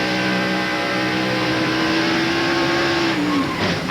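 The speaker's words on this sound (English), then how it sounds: "You could hear the RPMs that really get up there as the back started around on Benson's car" A stock car's engine screams at high revs as the back end comes around and it spins at the 2000 DirecTV 500 in Texas, a loud sustained roar whose pitch holds high, then drops sharply near the end.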